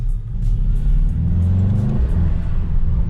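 A Mercedes-AMG GT63 S with a 640 hp engine accelerates on a city street in Paris, its loud, deep engine note rumbling and rising steadily, easing briefly, then pulling again close by.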